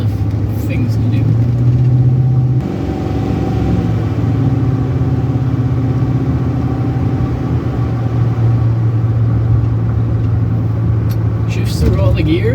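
A high-mileage 2004 Chevy Silverado 4x4 plow truck driving and shifting through its gears, engine drone rising and dropping with each shift under continuous cab road noise, loud and close.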